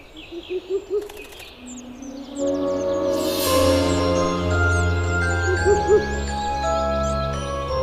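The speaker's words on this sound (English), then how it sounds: "A Ural owl calls out from the branches of a beech tree." A Ural owl calls from the branches of a beech tree in an Italian mountain forest, its low hoots standing out against a steady, dense background of birdsong and ambient forest sound.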